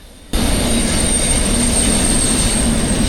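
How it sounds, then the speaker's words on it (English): A very long train rumbles past in Jasper, Canada, a loud, steady broadband roar with a faint high whine starting abruptly and continuing without a break, no talk. "I've never seen a train as long as this in my whole entire life."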